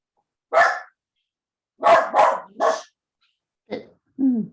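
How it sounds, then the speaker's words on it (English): A dog barks in short sharp bursts, a single bark, a quick run of three, then a pause and two more, loud and near against otherwise silent surroundings. "I'm sorry, but the dog is bothering us."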